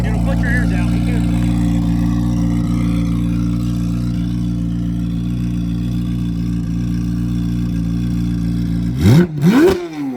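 A loud Corvette Z06 convertible engine with catalytic converters deleted and a new exhaust drones steadily at idle with a deep rumble, then sharply revs twice near the end, the exhaust roaring up and falling back.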